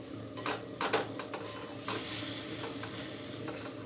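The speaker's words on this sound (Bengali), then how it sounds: "এটা একটু ভালো করে কষিয়ে নিতে হবে মশলাটাকে।" Spice masala with a little water added sizzles in a pan for a taro, potato and eggplant curry, as a utensil scrapes and clinks against the metal in quick strokes before settling into an even, close sizzle.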